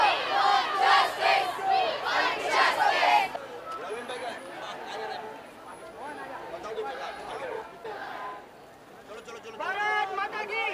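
Protest crowd at the reopened Oberoi shopping centre, loud massed shouting and cries at close range for the first few seconds, fading into a murmuring babble before voices swell again near the end.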